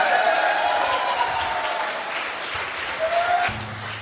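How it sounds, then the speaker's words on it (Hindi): Applause from a seminar audience honouring a mahaguru at a Safe Shop success preview seminar, a steady wash of clapping that fills the clip, with faint voices and background tones mixed in before it thins at the end. "की गहराइयों से जोरदार ताली दोस्तों।"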